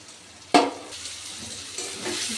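Chopped tomato goes into a hot pan with fried onion and garlic, starting with a sharp burst of sizzle that settles into a quieter frying hiss before swelling again near the end.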